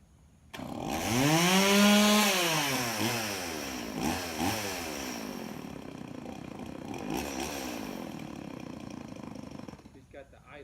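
A chainsaw with its idle set slightly too low, used while removing a bee tree, runs close and loud, its engine rising and falling in pitch through several revs before it cuts out near the end.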